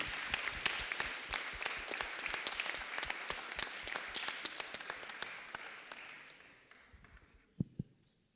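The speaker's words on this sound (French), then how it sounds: "on peut quand même vous applaudir" Audience applause at an ocean conference on Antarctica, a steady crowd of claps that fades out over the last couple of seconds, leaving a few isolated claps.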